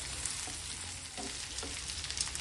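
Dried chilli, onion and tamarind fry in a pan with a steady, faint sizzle, broken by a few soft stirring scrapes.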